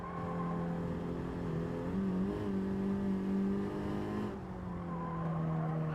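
Honda Civic race car engine in Gran Turismo 7, droning steadily at high revs through six seconds with pitch dips and rises as it shifts and brakes into corners, loud and continuous with no talk.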